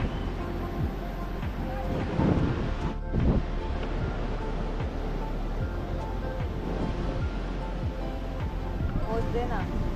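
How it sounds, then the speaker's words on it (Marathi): Big ocean waves surging at Baga beach in Goa, a continuous loud wash of surf with muffled voices mixed in. "मोठ्या मोठ्या लाटा आहेत."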